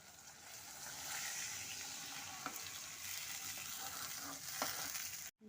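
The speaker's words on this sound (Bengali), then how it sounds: "এখন আমি পরিমাণ মতো জল দিয়ে দেব" Potatoes frying in a spice masala with water added, heard as a soft, steady sizzle and bubbling hiss with faint stirring taps, quiet and even, cutting off abruptly at the end.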